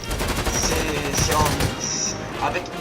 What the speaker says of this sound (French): Mais c'est le fusil d'assaillant à rafale.